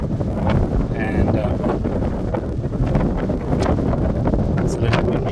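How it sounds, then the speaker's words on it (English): Strong wind buffets the microphone in steady, loud rumbling gusts while cycling through open country near Zamora, Spain, along the river that flows to Porto, with faint voices underneath. "it's a little windy."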